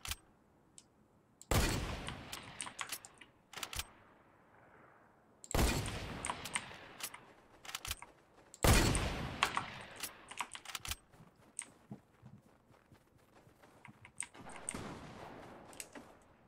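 Weapon fire in a video game arrives in three loud, sharp bursts separated by quieter stretches, while rapid keyboard clicking from typing runs through the gaps.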